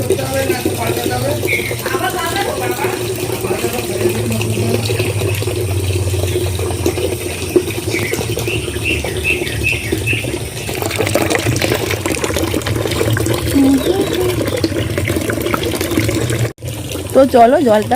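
Water gushes steadily from a tap into a container, a loud continuous rushing pour that carries on for the whole stretch while a person talks over it.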